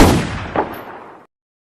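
A single loud gunshot-like blast rings out at close range, a sharp burst followed by a decaying rumble of about a second, with no talk.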